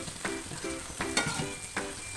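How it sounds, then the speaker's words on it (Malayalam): Dried fish sizzles steadily in a hot pan while being turned over, with soft scraping stir strokes repeating every half second or so, close and continuous, no talking. "ഉണക്കമീൻ മറിച്ചിട്ട് കൊടുക്കുകയാണ്"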